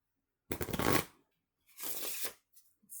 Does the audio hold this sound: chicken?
no